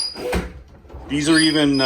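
A soft-close custom kitchen cabinet door in a tiny home at a home show is worked open and shut, giving a brief knock and slide that blends into surrounding voices, with talk carrying on throughout.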